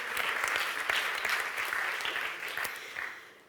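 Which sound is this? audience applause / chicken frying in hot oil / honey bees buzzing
audience applause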